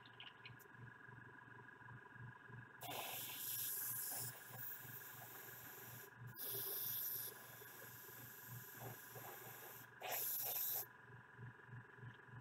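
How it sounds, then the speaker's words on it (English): An airbrush sprays watery paint in short bursts, three loud hissing spurts of a second or so each over a quiet room background with a soft rhythmic thumping underneath. "my airbrush doesn't like us. That's incredibly watery."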